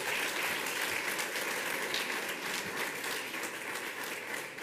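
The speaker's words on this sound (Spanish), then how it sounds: "Un aplauso para todos ellos que nos están viendo." Audience applause fills a swearing-in ceremony hall, steady dense clapping sustained throughout at a consistent level with no voices over it.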